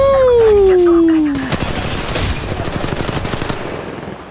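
Apex Legends Mobile gunfire erupts in a dense, crackling volley after a falling tonal whine, continuing as rapid loud shots from the match.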